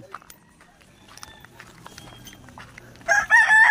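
A chicken rooster crows loudly and close toward the end, after a stretch of faint, scattered background noise.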